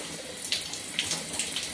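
Warm water runs steadily from a tap while hair in microlocs is rinsed during a wash, a constant close splashing flow with faint droplet patter.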